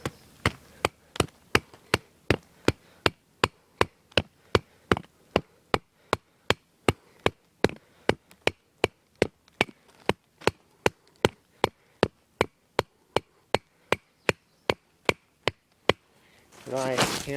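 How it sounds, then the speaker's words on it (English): Steady, evenly spaced hammering of a wooden stake into the ground with a hatchet, dozens of sharp knocks in a regular rhythm, close and clear, ending with a brief rustle. "You hammer your stake in the ground."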